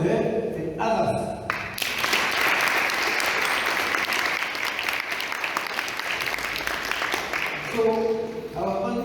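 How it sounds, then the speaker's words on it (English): Sustained applause from a large crowd, steady and dense after a brief lead-in, honoring a pioneer of women's football at a sports event. "So we need to clap hands for her and others."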